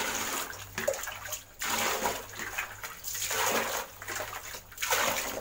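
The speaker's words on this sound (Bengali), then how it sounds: "তাই বালতিতে জল নিলাম" Water pours from a tap into a bucket at home to be used for mopping the floor. It makes a steady, close rushing splash that swells and dips slightly over the few seconds.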